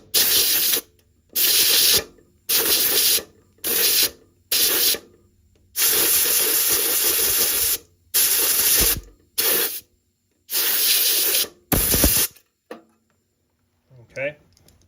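A 150 psi air compressor blows out a Pyramid Apex bill acceptor in a series of loud, close bursts of hissing air, each lasting about a second or two and separated by brief pauses, ending in quiet.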